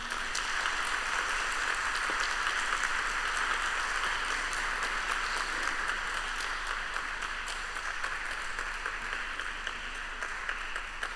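Sustained applause from an audience at a tribunal session in Istanbul, a dense even wash of clapping that continues unbroken and fairly loud throughout.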